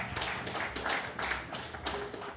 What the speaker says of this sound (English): Clap for him again.